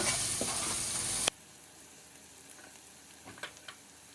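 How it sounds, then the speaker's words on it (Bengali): Ground turmeric, coriander and chilli powder fry in oil for a fish curry, a loud dense sizzle that cuts off abruptly, leaving quiet background with a few faint clinks and stirring scrapes. "মশলা দিয়ে আবারও খুব ভালোভাবে কষিয়ে নেব যতক্ষণ না তেল ছেড়ে আসে।"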